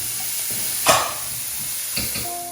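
Onions sizzling and softening in a hot pan, with peppers to follow, give a steady close hiss of sautéing, punctuated by a sharper burst of sizzle and a couple of faint stirring scrapes.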